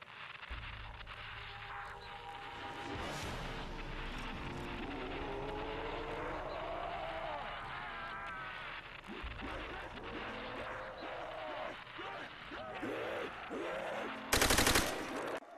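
Radio easter egg in Call of Duty: World at War Zombies on the Shi No Numa map plays continuous gunfire with bursts and shouting under a loud game soundscape, ending in a sharp loud burst.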